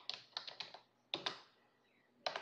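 Code typed on a computer keyboard comes as short bursts of crisp key clicks, a few quick taps at a time with brief pauses between groups, close and clear.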